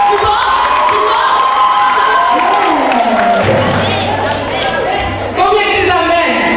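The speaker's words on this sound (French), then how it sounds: "On applaudit plus fort, plus fort, plus fort, plus fort." An audience at a live show cheers, shouts and claps for the performers, a loud, dense crowd roar that swells and ebbs, with a low steady hum entering partway through.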